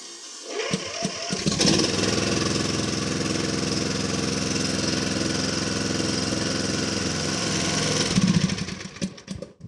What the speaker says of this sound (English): I'm just gonna test drive the engine for a while to see that everything is working before I fasten it.